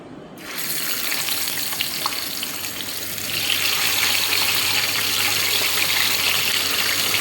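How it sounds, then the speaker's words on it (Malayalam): Masala-coated sardines from Oman dropped into hot oil, a steady loud hiss of frying that swells and grows denser partway through, with no talking. "ഇനി അത് എണ്ണയിലോട്ടുന്നതാണ്"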